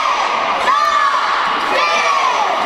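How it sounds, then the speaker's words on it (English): A wrestling crowd cheers and shouts continuously, a dense wash of voices swelling with a couple of louder whoops, filling the space throughout. "Crowd's really into this right now."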